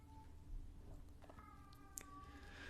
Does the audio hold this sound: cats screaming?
yes